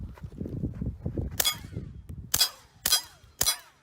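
A suppressed Ruger Mark 4 22/45 tactical pistol fired outdoors: four sharp, clacky shots spaced about half a second apart, each with a brief metallic ring, following low rustling and handling noise.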